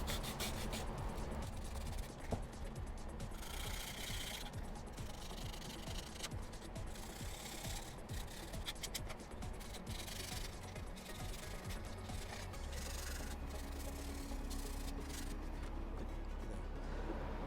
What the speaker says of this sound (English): I'm going to switch over to just some light sandpaper. This is a 220 grit sandpaper